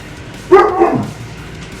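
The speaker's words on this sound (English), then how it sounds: "That bark is saying I want to play." A dog named Storm lets out a single loud, close bark that trails into a short whine, with quiet around it and the start of another sound at the very end.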